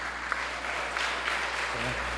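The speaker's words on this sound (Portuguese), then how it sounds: "Uma salva de palmas, o Genuíno, o Matheus e para o Flive." Faint, steady applause from an audience at a panel debate on the Brazilian left, a continuous soft clatter of hands with a low hum underneath.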